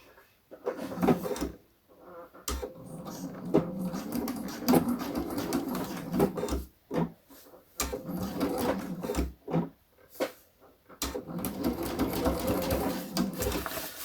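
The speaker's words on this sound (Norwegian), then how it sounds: "jeg har valgt å sy med stikninger som er sånn at syfoten min ligger kant i kant med denne sømmen nedover" A domestic sewing machine topstitches along a jacket seam in repeated runs of rapid whirring stitching, broken by short pauses and small clicks as the fabric is adjusted.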